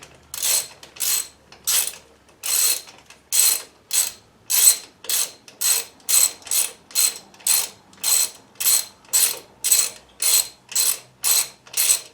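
A ratchet tightens bolts on an axle cover plate, giving repeated close metallic clicking bursts in a steady back-and-forth rhythm with brief pauses, and no talking.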